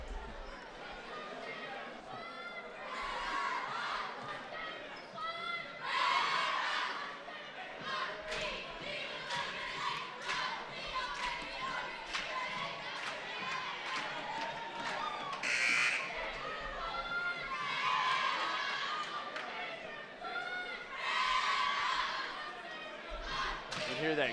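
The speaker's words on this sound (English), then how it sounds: "hear that crowd. They're really getting into it now." Crowd noise at a national championship basketball game, continuous chatter and cheering with buzzer blasts and ball thumps, loud and busy, with a commentator talking throughout.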